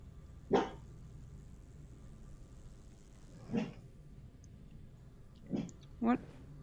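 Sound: dog barking in the room

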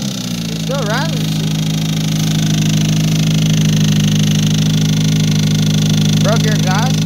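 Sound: 20v engine running after start

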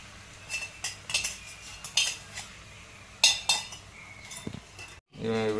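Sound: stirring egg rice in a pan

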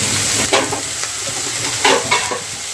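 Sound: cabbage bhaji frying and being stirred in a pan

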